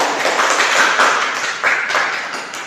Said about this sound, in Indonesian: Kita berikan aplaus kepada Sarina.